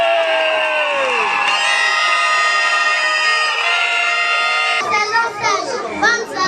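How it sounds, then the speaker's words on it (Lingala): A crowd cheers and whoops at a lively event, with a sustained musical tone running beneath at first, then breaking into scattered shouts and excited voices near the end. "Applaudissez!"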